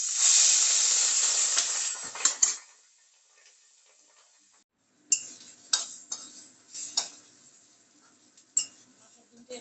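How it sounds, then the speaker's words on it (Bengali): Fish roe seasoned with turmeric and salt frying hard in hot oil in a kadai: a loud, steady sizzling hiss that suddenly drops away, followed by scattered pops and light metallic clinks of stirring. "মাছের ডিমটা এরকম ধুলো করে ভেজে নেব"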